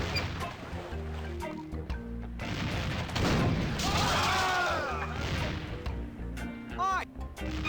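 Cannon blasts and gunfire in the video game The Curse of Monkey Island, heavy booms and crashes rolling over several seconds, with game music and a character's voice shouting over them.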